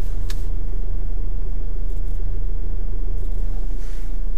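A car reversing in a straight line toward a kerb during a practice driving test, its engine a steady low rumble that fills the whole stretch, with a few faint clicks and rustles inside the cabin and no talk.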